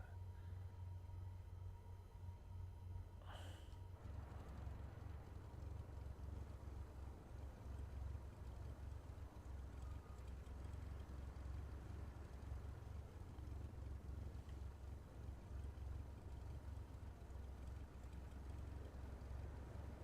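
An aircraft engine runs steadily in Microsoft Flight Simulator 2024, a continuous loud low drone lasting throughout, with a brief higher tone near the start.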